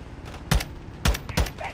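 Gunfire from a helicopter in a first-person shooter campaign: three sharp, heavy shot bursts spaced about half a second apart, loud and close against a low engine-like background rumble.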